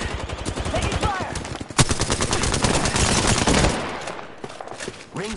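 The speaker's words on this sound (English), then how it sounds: "Taking fire!" Rapid automatic gunfire rattles in a battle-royale shooter match, dense bursts of close, loud shots running almost continuously before tapering off, with scattered game voices and effects mixed in.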